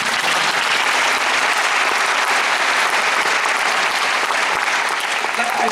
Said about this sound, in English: It will require a round of applause from that